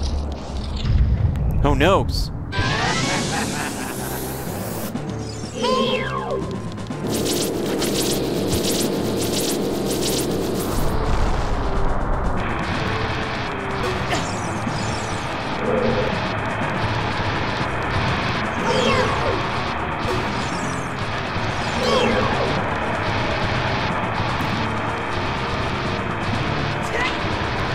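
Bomb explosions in Ocarina of Time, booming blasts with crashing debris early on, followed by a steady layer of game sound effects and music while a voice speaks over it.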